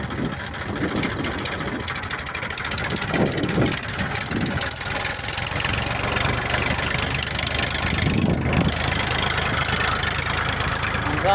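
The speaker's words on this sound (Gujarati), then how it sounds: "હવે જાય છે આપણું ટ્રેક્ટર વાવવા" A tractor engine runs steadily as it heads out for sowing on a village farm, a continuous mid-low rumble with some nearby voices talking over it.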